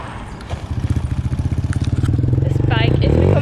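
A motorbike engine on a road trip in Laos throbs with a rapid, regular pulsing close by, rising in pitch and intensity as it revs up toward the end.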